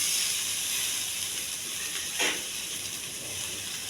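Okra frying in a pan with a little water gives off a steady, close steam hiss and sizzle, with one brief louder sputter partway through.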